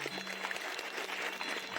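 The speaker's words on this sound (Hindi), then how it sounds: "जोरदार ताली।" An audience at a farewell event claps continuously, a dense even wash of applause that fills the whole moment without pauses or voices.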